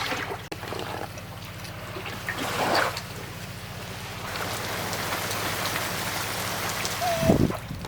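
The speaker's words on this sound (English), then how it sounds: "It's sort of a gray and rainy day." Rain falls steadily on a sailboat on a gray day in the Northern Exumas, a dense close patter that swells briefly midway, with a short squeak near the end.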